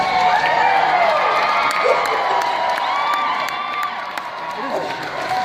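A convention panel audience at Salt Lake FanX cheers and whoops loudly in a hall, a dense sustained roar of many voices with shouts and some applause, close and continuous for several seconds.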